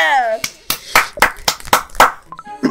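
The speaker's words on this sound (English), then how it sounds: "Clap, clap." A quick run of about seven sharp hand claps in a steady rhythm, close and loud, after a brief voice at the start.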